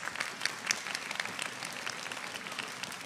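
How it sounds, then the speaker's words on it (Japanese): An audience at a Persona 4 Arena Ultimax fighting game tournament top 8 applauds the two players, a dense, steady crowd clapping that fills the room for a few seconds. "それでは2名の選手に今一度盛大な拍手をお願いします。"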